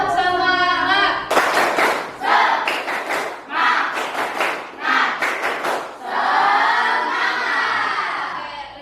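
Students in a classroom perform a tepuk semangat, a rhythmic group clapping chant, with bursts of sharp claps alternating with shouted chanting voices, loud and close, ending in a sustained crowd cheer.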